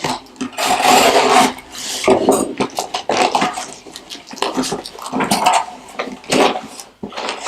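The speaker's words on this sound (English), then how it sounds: "Got my blade. Just gonna go ahead and slice it." A blade slices and rips open a mailed package holding a trucker hat, with harsh scraping, tearing and rustling strokes in irregular bursts, close and loud.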